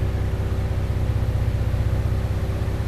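A Mazda FC RX7 runs steadily nearby, its engine a continuous low, even drone throughout, with no talk heard over it.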